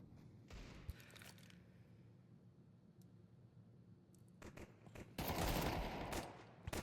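Gunfire from a Desert Eagle pistol in a Counter-Strike match: a few sharp isolated shots early on, then a dense burst of loud rapid gunfire near the end.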